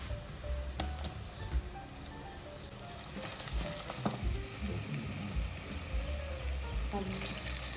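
Onions and garlic-ginger paste fry in a pan for a stuffed eggplant dish, giving a constant soft sizzle with occasional stirring scrapes and clicks, fairly faint and close.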